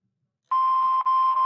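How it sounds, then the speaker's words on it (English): A single steady electronic tone from an answering machine starts abruptly after a moment of silence and holds clear and close, with a slight dip partway through. "Please leave your name and phone number after the beep."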